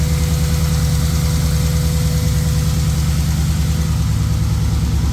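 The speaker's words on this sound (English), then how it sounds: "This side tick's definitely louder." An LS1 V8 engine idles loudly and steadily up close, a constant low rumble and drone with a persistent tick more prominent on one side, no voices over it.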